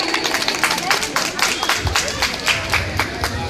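Audience applause at the Jhankar Media Award 2024 ceremony, with a steady wash of many hands clapping throughout, close and fairly loud, and some crowd noise mixed in.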